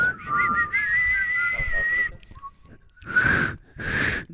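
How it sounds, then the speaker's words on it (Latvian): A person whistles a tune at close range: a long wavering melodic line held for about two seconds, followed after a short pause by two loud, breathy whistled blasts. "Tu māki svilpot?"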